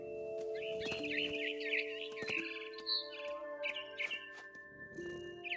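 Birds chirp and tweet in the video game What Remains of Edith Finch, with bright, repeated calls scattered over sustained tonal music.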